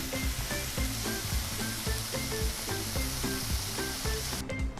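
Steaks sizzle loudly in a pan as they are turned, a continuous hissing fry with repeated clattering thumps from the turning, with no one talking.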